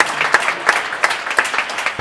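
Applause from a crowd watching a real tennis doubles semi-final at the British Open, a steady patter of clapping with sharper bursts, fairly close and continuous.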